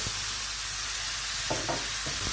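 Sirloin steaks searing in a pan with their fat edges sizzling, a dense continuous hiss with a few low knocks and handling bumps toward the end, close up.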